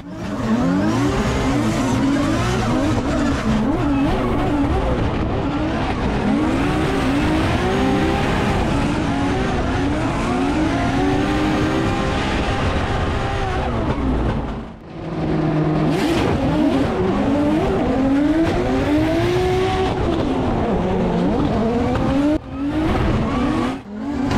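Drift race cars scream around a track, engines revving hard and rising and falling while tires squeal and skid continuously, loud and sustained with a brief dip near the middle.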